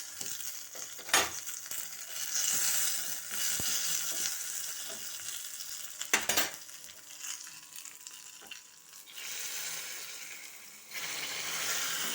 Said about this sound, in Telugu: ఇప్పుడు కాస్త కరివేపాకు వేసుకున్నాను